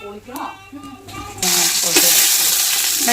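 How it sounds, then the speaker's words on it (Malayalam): Cardamom sautés in hot ghee in a home kitchen pan. Quiet stirring and a voice come first, then a loud, steady sizzle takes over close by. "ഏലക്കാമി ഇത് നന്നായിട്ടൊന്ന് ആ നെയ്യിലൊക്കെ കിടന്നൊന്ന് വഴറ്റിയെടുക്കുക"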